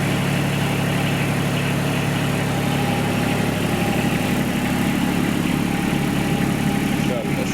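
A 2019 John Deere X758 4x4 diesel garden tractor idles steadily up close, a constant droning engine hum that runs without a break.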